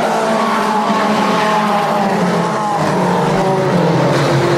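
Dirt modified race cars roar around the oval at Airborne Speedway in Plattsburgh, NY, a loud continuous engine drone with layered passing engines and some tire noise, no talk.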